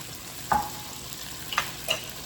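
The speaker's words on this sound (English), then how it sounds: "Let's give that a little stir" A utensil stirs honey mustard chicken with Dijon mustard in a pan: three brief scraping clinks over a low, steady sizzle, close and fairly quiet, with no talking.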